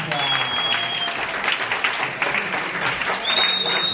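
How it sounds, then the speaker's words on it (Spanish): Audience applause for a stage act in a comedy show, steady mid-loud clapping from a crowd lasting throughout, with a voice speaking over it. "Un aplauso para Bárbara Caldo y su número nuevo."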